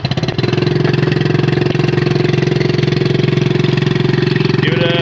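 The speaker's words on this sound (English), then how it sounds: "Honda 2006 EPA standard 4-stroke 2 horsepower outboard engine. And Ash, if you want to pull it and start it, we'll see how it goes." A 2006 Honda 2 hp four-stroke outboard motor is pull-started and catches almost at once, then settles into a loud, close, fast and even putter that runs without a break.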